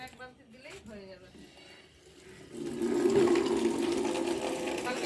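A bucket of water is poured onto garden plants, a loud steady gush of splashing liquid that starts partway through and continues to the end, with a person talking quietly before it.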